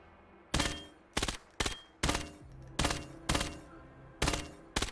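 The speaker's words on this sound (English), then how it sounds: "This gun is really good. This fires really fast." A fast-firing submachine gun in the VR shooter Vail VR lets off eight short, sharp bursts of rapid shots at roughly half-second gaps, loud and close, each burst trailing off into a faint echo.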